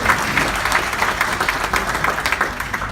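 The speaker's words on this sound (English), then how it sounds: "Let's give these people a round of applause." An audience applauds for people invited to stand at a business event in Mumbai, with dense, steady clapping from a sizeable crowd for about three seconds.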